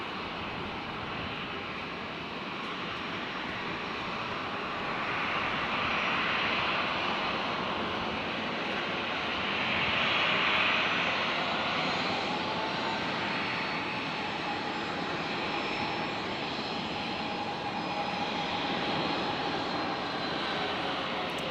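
Qantas jet airliner taking off at Brisbane airport, a steady broadband engine roar building slightly in the middle and holding loud throughout with no talk.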